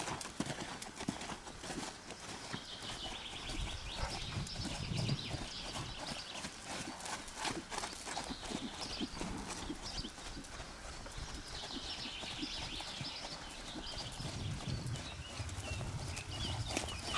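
A horse moves around on a lunge line, its hooves striking the ground in a steady rhythmic clip-clop throughout, with faint background sounds and occasional low voices.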